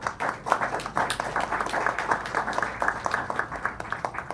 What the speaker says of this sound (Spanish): Fuerte aplauso para la mesa de honor.